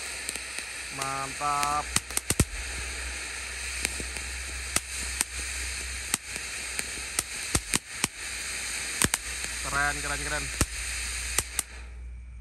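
A ground fountain firework sprays a tall jet of sparks at night, a steady hissing crackle lasting throughout with sharp pops scattered over it, while people speak briefly and admiringly.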